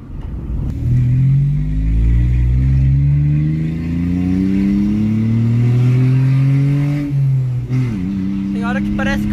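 A Renault Sandero GT Line with a 1.0 three-cylinder engine and an exhaust diffuser revs up and down repeatedly, its loud, close exhaust rising and falling in pitch before a sharp drop and a brief whistling blip at the end.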